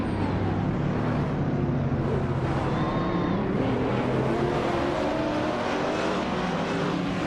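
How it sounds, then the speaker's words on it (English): Race cars lapping the JS Turbo GP track in a racing video game, GT3-class machines such as a 2009 Mercedes-Benz SLS AMG, engines droning steadily and loud with rising and falling pitch as they pass, no talking. "the race is underway at the JS Turbo GP track"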